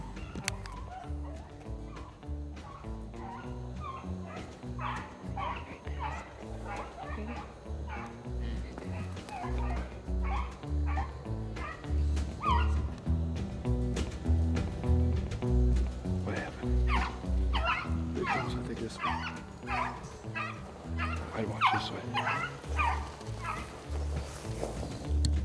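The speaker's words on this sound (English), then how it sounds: "Hear them dogs? They're on some rabbits." Beagles bay and yip while running rabbits during a hunt outdoors, a steady chorus of overlapping howls and barks at middle distance lasting throughout, with people talking over it.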